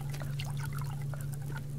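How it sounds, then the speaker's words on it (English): Watering plants in the survival video game Subsistence, a quiet short pour of water trickling over a low steady background hum. "I am doing water and fertilizer on the plants."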